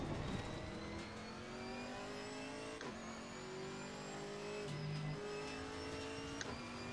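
GT4 race car at Bathurst in the racing game Assetto Corsa Competizione: the engine revs up steadily through several gear changes, each upshift briefly dropping the pitch before it climbs again, close and continuous with no talk.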